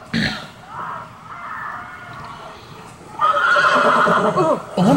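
A horse neighs loudly in a Game of Thrones video game, a long whinny near the end following softer game sounds and some hoof-like clatter, with no talk over it.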